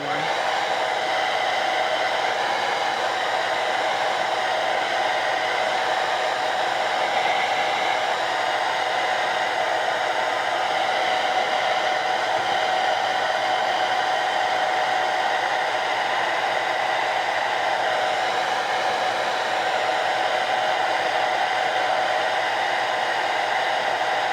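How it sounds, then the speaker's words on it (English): A blow dryer runs continuously at a steady, loud whir for the whole stretch, with no voices. "I am using a blow dryer only."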